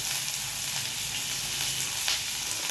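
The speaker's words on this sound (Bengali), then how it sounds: "তারপরে পেঁয়াজ কুচিগুলো দিয়ে দেবো। ওগুলিকে দিয়ে একসাথে ভালো করে মিক্স করে নেবেন নাড়িয়ে।" Chopped onions sizzle steadily in a hot pan while being stirred, a constant close frying hiss with faint scraping, no voices.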